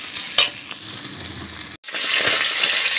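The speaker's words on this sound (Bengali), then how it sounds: "ডিমের শাকটা দিয়েছি আর পেঁয়াজ দিয়েছি, আর একটু ভেজে নেবো, তারপর নামাবো" Greens with potato and onion frying in a pan, a loud steady sizzle with scraping stirs, broken by a brief pause before the hissing resumes even stronger.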